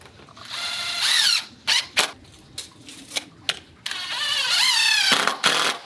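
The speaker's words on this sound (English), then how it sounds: "So I just got these screws started 20 inches in from the end of the 4x4 right here." A power drill driving screws into a 4x4 wooden post while building a round bale hay feeder: two long rising whirs of the motor at the start and end, with sharp clicks and knocks in between.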